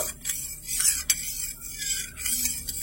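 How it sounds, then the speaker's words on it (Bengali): A spoon stirring sugar into a cup of hot water in a bowl, with repeated light metallic scrapes and clinks against the sides in an uneven rhythm, close and fairly quiet, with no speech. "একটু চিনিটা মিশিয়ে নেব"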